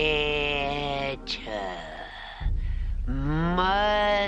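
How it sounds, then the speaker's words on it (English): A voice shifts into a long, wavering bleat like a goat, with stretched, quavering cries broken by a short pause, loud and close. "here's Carol Channing turning into a goat"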